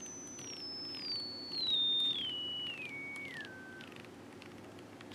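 AD9850 signal generator putting out a pure test tone that steps downward in pitch in several distinct stages, a single clear whistle heard alone with no talking.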